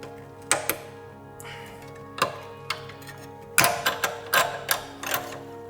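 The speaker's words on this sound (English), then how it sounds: "you pry off this spring here, but like this" A spring is pried off a BMW E61 rear brake caliper, giving a few sharp metallic clicks and snaps in irregular bursts, close and fairly loud.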